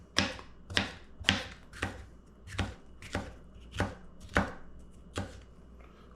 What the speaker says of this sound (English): we're cutting just some strips